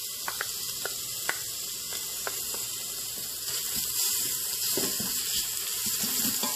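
Ginger garlic paste fries in hot oil with a soft, constant sizzling hiss, fairly quiet, broken by a few small crackles and light taps, with no talking.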